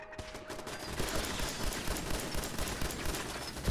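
Pistol gunfire in Fallout 4 during an assault on the Corvega assembly plant, a steady dense stream of cracking shots and battle noise at moderate level without pause.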